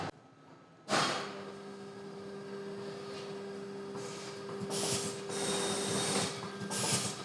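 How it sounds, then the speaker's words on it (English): A Massman pouch fill and seal machine runs at 30 bags per minute, giving a steady mechanical hum with a strong tonal whine and periodic hissing bursts from the sealing cycle. "I'm currently running the machine at 30 bags per minute."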